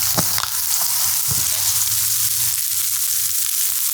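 Bell peppers and onions seasoned with salt and pepper fry on a Blackstone griddle with a loud, continuous hiss and sizzle, broken early by a couple of brief clicks or scrapes.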